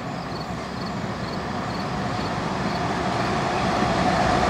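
A slow train rolls past on railroad tracks at a train meet during track work, a steady broadband rumble and rail noise that builds gradually louder over several seconds, with no talk.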